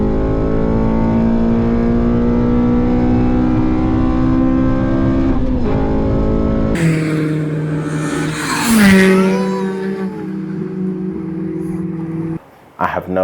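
A Honda K24 engine with modified exhaust and cams in an FN2 car sends out a loud, steady drone, then snaps into a raucous rev that rises and falls before a brief throttle blip near the end.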